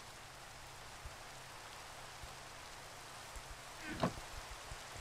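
Steady rain falls in Minecraft on Hermitcraft, a soft, even hiss with scattered drip taps and one brief, sharper splash partway through.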